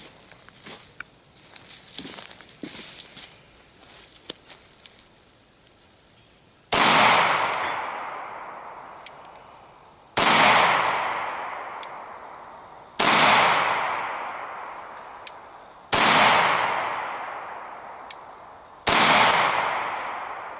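Five loud, sharp gunshots from a Glock 20 10mm pistol fired at close range, spaced a few seconds apart, each with a long ringing decay. Low room noise comes before the first shot.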